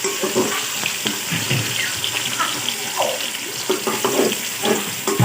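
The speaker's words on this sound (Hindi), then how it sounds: "तो ये ऑयल हमारा गर्म हो गया है। अब हम इसमें सबसे पहले प्याज डालेंगे।" Onions dropped into hot oil in a pan while cooking chicken yakhni pulao, giving a close, busy sizzle and crackle with scattered pops and stirring scrapes, fairly loud and uneven.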